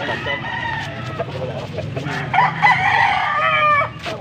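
A gamecock stag at a poultry auction in Angeles City, Pampanga, crows and clucks close by in repeated bursts over a low background murmur.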